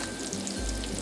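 Onions hitting a hot stir-fry pan for a lemon ginger shrimp dish, a steady close sizzle that swells suddenly partway through as they go in, with no talk.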